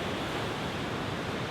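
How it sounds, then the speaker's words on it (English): A roaring waterfall heard as a dense, steady broadband rush, loud and continuous with no break. "Look at this crazy waterfall!"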